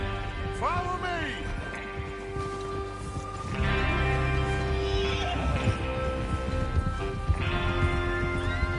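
Horses whinny and neigh in Red Dead Redemption 2, with hooves clip-clopping steadily on the ground as a gang mounts up, several rising neighs standing out over a soft patter of rain and low background chatter.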